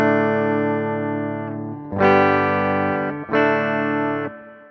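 Sustained distorted chords from a budget electric guitar slightly out of tune ring out, with a sour, wavering pitch between the notes; three strummed chords, each held and left to decay.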